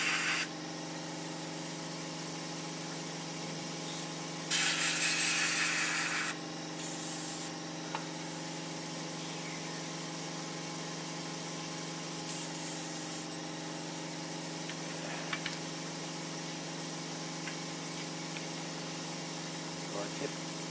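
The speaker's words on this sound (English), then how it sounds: "I'm sort of spraying in the middle, but only ever so lightly feathering it to the edge." Short bursts of spray hiss from an airbrush or can, a few seconds each, over a steady low machine hum, with pauses between passes as paint is lightly feathered onto a model plane.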